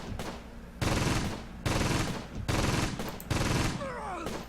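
Sustained gunfire in the wartime strategy game Close Combat: Gateway to Caen, dense rattling bursts of rifle and machine-gun fire coming in four loud waves, close and continuous.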